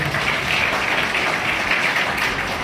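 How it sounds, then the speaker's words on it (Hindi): A school audience welcomes the principal with loud, dense applause that holds steady for the whole short stretch. "जोरदार तालियों से स्वागत करें"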